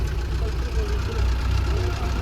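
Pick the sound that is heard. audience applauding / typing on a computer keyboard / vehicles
vehicles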